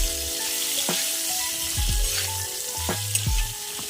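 Potatoes fry in hot oil with asafoetida, sizzling steadily up close while a spoon scrapes and clinks against the pan in a few separate stirring strokes.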